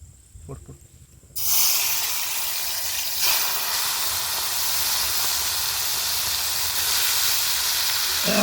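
A pot of wild quail curry heats over an outdoor village cooking fire, and a loud, steady boiling hiss surges in abruptly after a brief quieter start with a faint voice.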